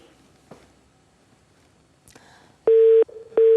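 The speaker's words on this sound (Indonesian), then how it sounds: "sepertinya kita ada kendala sambungan telepon" Telephone busy signal from a failed phone connection during an Indonesian news broadcast: two loud, steady electronic tone bursts near the end, preceded by quiet room noise and a couple of faint knocks.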